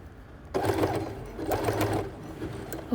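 A sewing machine fitted with a rolled hem foot runs in short bursts, its motor whirring and needle clattering close by, with brief pauses between runs.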